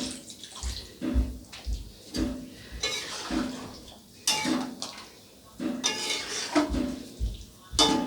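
Water being poured into a pot of doi potol, a yogurt and pointed gourd curry, in a home kitchen, heard as a series of short splashing pours separated by brief pauses, with light clinks of a bowl or utensil against the pot.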